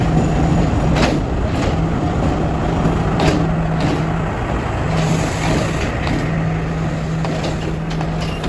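A train rumbles at Badulla railway station, with a heavy continuous roar of wagons on the track, some sharp clanks and a low steady hum, loud and close throughout.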